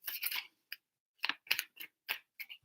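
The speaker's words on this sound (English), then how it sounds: "3 shuffles for Leo" Tarot cards being shuffled up close: quick papery riffles and taps in short bursts, a brief flurry at the start, a pause, then several crisp snaps, faint and isolated with no talking.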